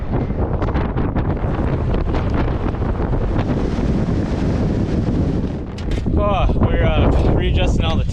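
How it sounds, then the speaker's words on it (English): Strong wind buffets the microphone at a deer hunting camp in Montana, a constant loud roar throughout, with a person's voice briefly heard near the end. "Got a little windy today."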